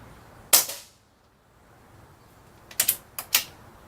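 A .22 Benjamin Maximus air rifle fires at a shooting table: one sharp crack, then a quiet pause and a tight burst of three more snapping shots close by.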